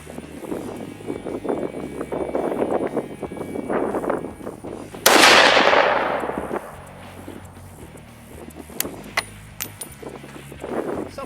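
A New England Firearms Handi-Rifle, a single-shot rifle chambered in .243 Winchester, fires one loud, close, sharp report that rolls off into a fading rumble, with steady outdoor background noise before and after.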